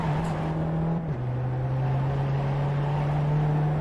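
A VW Jetta TDI race car in the iRacing simulator at Virginia International Raceway holds a loud, steady engine drone, with a brief dip in pitch at a downshift before settling into a constant tone.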